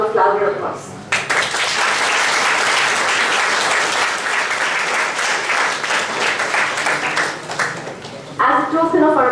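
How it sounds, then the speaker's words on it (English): Audience at a university law lecture in Calcutta giving a sustained round of loud clapping after the talk, with brief speech heard before and after the applause. "this calls for another round of louder applause"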